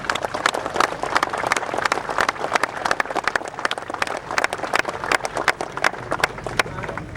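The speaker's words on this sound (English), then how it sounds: "Yes, round of applause, please." A crowd at a railway locomotive gathering in Spencer, North Carolina gives a round of applause, heard as moderately loud, scattered, uneven clapping that carries on steadily.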